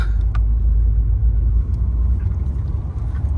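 A BF X6 MK 2.5 engine idles steadily, a low continuous rumble with a smooth even hum and no stumbling, alongside a few faint light clicks.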